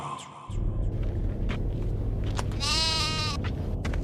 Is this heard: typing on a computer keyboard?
no